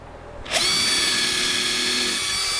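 A power drill spins up sharply and whines steadily, close and loud, while driving countersunk screws into a table saw sled, with no voices.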